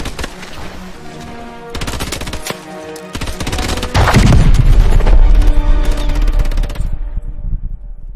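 Dense gunfire and heavy explosions from the Call of Duty: Advanced Warfare video game, with rapid automatic bursts and booming blasts building louder midway before cutting off near the end.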